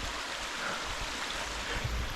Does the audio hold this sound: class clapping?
no